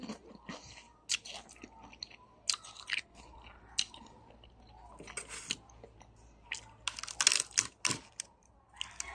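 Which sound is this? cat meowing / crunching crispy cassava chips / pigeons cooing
crunching crispy cassava chips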